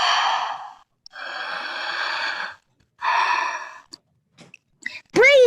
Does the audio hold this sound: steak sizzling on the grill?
no